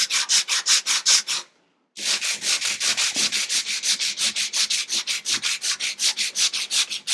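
Sandpaper scrubs a wooden canvas frame flat in fast, regular back-and-forth strokes, loud and close, pausing briefly near the start before resuming its steady rasping rhythm.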